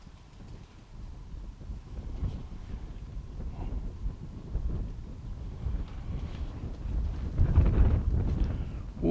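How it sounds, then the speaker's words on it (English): Outdoor wind blows steadily into the microphone, making a continuous low rumbling buffet that swells louder toward the end. "Oh, it's very windy, isn't it?"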